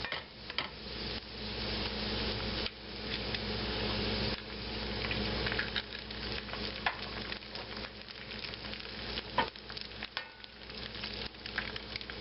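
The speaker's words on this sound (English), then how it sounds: "So I'll break a couple eggs in here." Eggs cracked into a pan sizzle and fry steadily for a sheepherder breakfast, a continuous close crackle with small pops and stirring clatter, no voices.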